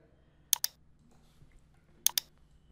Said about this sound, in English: just double click here